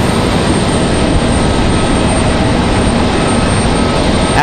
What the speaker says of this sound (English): Looks like our Dreamliner here is on final.